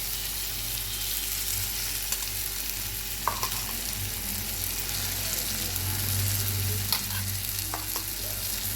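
Boiled dal tipped into a hot pan, giving a steady close frying sizzle with a low hum underneath and occasional spoon taps and scrapes.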